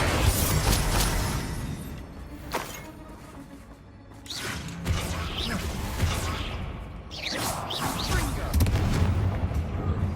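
Fire spell blasts in the Hogwarts Legacy video game, a rapid series of booming explosions and whooshes layered over continuous combat effects and music, loud and dense throughout.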